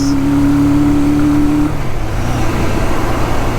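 A 1977 Suzuki GS550 motorcycle engine bogs while being ridden on a test ride after carburetor cleaning. Its close, steady drone carries a humming tone that sags partway through, with no talking.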